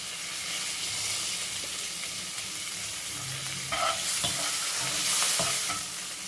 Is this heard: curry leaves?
yes